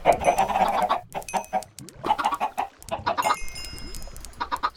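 Chickens in the video game Minecraft cluck in quick, repeated bursts close by, several birds overlapping as they crowd around food, with no talking over them.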